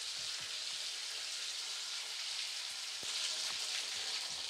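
Potato pieces fry in hot oil until reddish, giving a soft, even hiss with faint crackles and low bumps underneath, steady throughout and free of talk.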